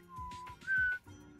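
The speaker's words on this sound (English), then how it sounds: "Because I can whistle in both directions." A person whistles while breathing in, a few short airy tones followed by a louder sustained pitch that breaks off, close and alone.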